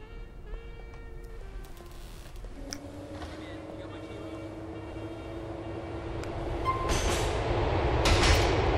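A Grand Theft Auto IV subway train, the J line on the LTA Rail Algonquin route, rumbles along with a whining tone that steadily swells louder and closer toward the end, with no talk.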